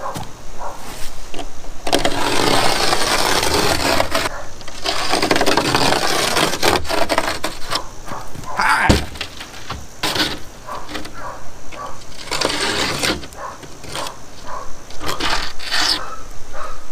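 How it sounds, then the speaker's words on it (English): A small utility knife cuts through foam board panels for an underground irrigation pump house, with long rasping, crunching strokes in bursts and short pauses between them, close up with no voices. "I heard you could cut it with this, with one of these little utility knives, and they weren't wrong."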